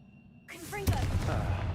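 A Confringo blasting curse goes off in Hogwarts Legacy, a single sharp burst followed by a rumbling, crackling tail that dies away.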